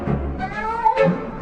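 A cat meows once, a close, loud, drawn-out call that bends in pitch and stands alone.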